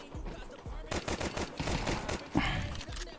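Rapid automatic gunfire from a Counter-Strike 2 match, a dense string of close, sharp shots over about two seconds, fairly loud.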